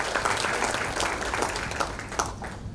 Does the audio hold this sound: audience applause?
yes